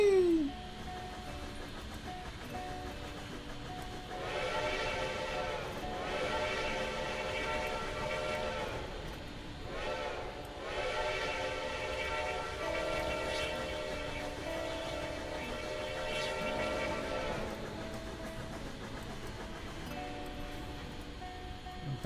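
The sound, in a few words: steam train moving with boxcars in Railworks video game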